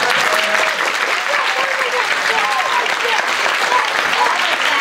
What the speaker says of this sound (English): Just ask for one more round of applause for that.